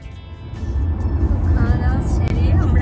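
A car cruising down a Texas highway on a road trip between Dallas and Corpus Christi, with a steady, close, low rumble of engine and road noise that holds throughout.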